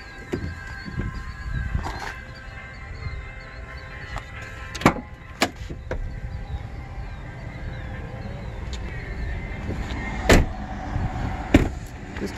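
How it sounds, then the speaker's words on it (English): Doors of a 2011 GMC Sierra pickup truck opening and closing outdoors, heard as several sharp, loud thumps and clunks spread across the stretch, with quieter latch clicks and a steady low background hum between them. "Check the doors here."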